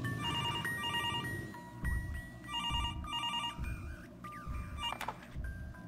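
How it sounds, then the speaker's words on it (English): Telephone ringing in the Mr. Hopp's Playhouse horror game: repeated electronic ring bursts in a steady pattern over a low rumbling background drone, fairly close and clear. "The phone ringing."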